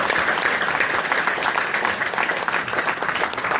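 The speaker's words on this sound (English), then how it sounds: "So give every another round of applause." Steady, dense applause from an audience at a talk fills the whole stretch, a continuous wash of many hands clapping at even loudness with no voices standing out.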